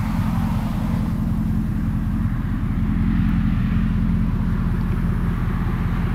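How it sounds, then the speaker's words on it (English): A 2007 Cadillac Escalade EXT engine idles continuously with a deep, steady rumble and a throbbing low exhaust note, louder than stock, loud and close throughout. "Not overbearing though, got a good rumble to it."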